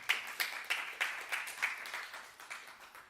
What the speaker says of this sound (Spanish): Dele un fuerte aplauso a Dios en esta tarde.